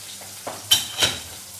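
Etta fish frying in a pan, with a low sizzle and two or three sharp spitting crackles close by and no talk.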